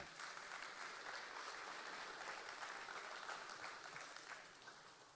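An audience at a church service applauds in a sustained burst of many hands clapping, a dense, steady crackle that tapers off gently near the close.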